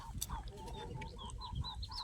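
Farm chickens clucking and calling softly at a distance, short scattered cackles over low rustling background noise.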